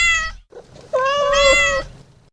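A cat meows twice, close and clear: a short call followed, after a brief pause, by a longer and louder drawn-out meow, with no voices.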